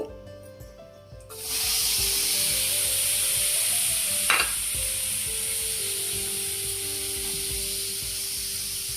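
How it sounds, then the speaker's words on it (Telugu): Tomatoes dropped into a hot pan burst into a steady, loud sizzle of frying, with a brief clatter at the start and a stir scraping midway, no voices over it. "వేయించుకుందాం టమాటాలు."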